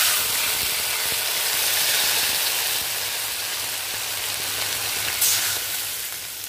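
Cumin paste and green chilies hit hot oil in a village kitchen, making a steady, fairly loud sizzle with faint crackles and a low hum underneath.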